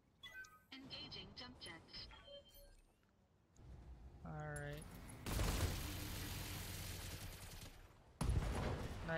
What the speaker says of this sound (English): Machine guns are so funny, it feels like they fire in every direction.